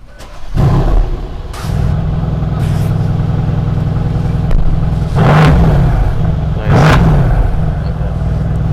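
BMW M3 engine revving hard in several bursts, loud and close, with deep growling rises and falls over a steady idle rumble.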